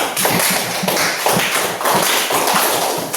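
A classroom group applauds after a presentation, with dense, loud, continuous clapping from many hands filling the whole stretch.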